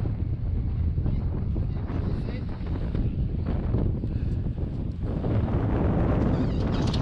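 Strong 35-knot wind at Castejon de Monegros roars and buffets the microphone in a steady, loud rumble that lasts the whole stretch, with gusts swelling it further toward the end.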